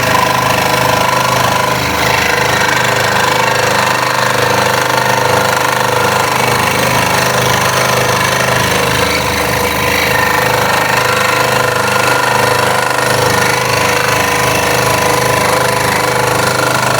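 A scroll saw cuts a wooden Halloween project, its blade chattering in a loud, steady, rapid buzz that runs without a break, close up and with no talk.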